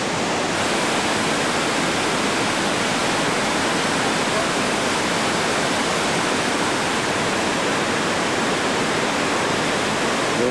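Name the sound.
river rapids, heavy whitewater in the Grand Canyon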